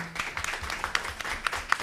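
A small group at a committee meeting gives a colleague a round of applause: light, scattered hand claps, fairly quiet and close, lasting under two seconds.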